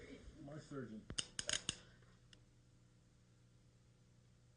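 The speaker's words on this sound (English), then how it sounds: "You're going to crimp these contacts down" A crimp tool crimps wire contacts for a plug, a quick cluster of four or five sharp metallic clicks and snaps close up, following brief talk and trailing into quiet.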